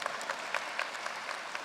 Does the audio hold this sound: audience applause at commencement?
yes